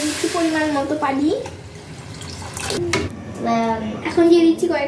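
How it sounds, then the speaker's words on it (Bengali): Water is poured into a cooking pot of fried rice, making a short splashing gush between stretches of someone speaking close by. "এখন আমি দিয়ে দিচ্ছি পরিমাণ মতো পানি।"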